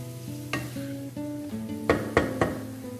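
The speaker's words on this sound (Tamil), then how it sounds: "இந்த பன்னீரை இந்த எண்ணெயிலேயே லைட்டாக சாட்டே பண்ணிக்கலாம்." Paneer sautés lightly in oil in a pan, a soft sizzle under a low background hum, with a spatula scraping and knocking against the pan several times, the sharpest strikes coming in a cluster near the end.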